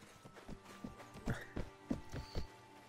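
Cavalry horses in the video game Viking Conquest approach with clear clip-clop hoofbeats: an uneven, moderately close trot of several hooves, with a faint background tone.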